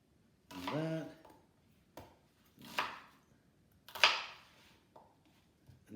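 Knife cutting vegetables into wedges for Maltese kapponata, a few separate cutting strokes spaced apart, each one a brief, crisp scrape and thud, fairly quiet with no voice.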